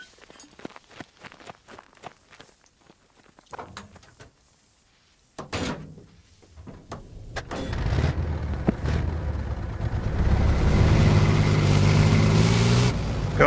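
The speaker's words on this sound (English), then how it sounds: "I don't know how you describe that engine, but I guess it sounds a bit smoother and higher pitched to me than most other vehicles." A ZSU anti-aircraft vehicle in the video game Squad: scattered clicks and thumps give way to an engine that rises into a steady, loud, smooth drone and holds for the last few seconds.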